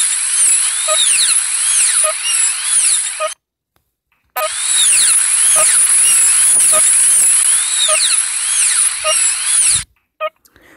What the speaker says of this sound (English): we will use our polishing tip and our drill to smooth out the surface of the fillings